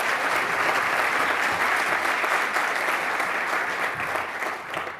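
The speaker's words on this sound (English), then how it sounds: "Could we also applaud our elders who shared so much with us?" A large audience claps loudly and steadily, a dense wash of applause that holds throughout and tapers slightly at the end.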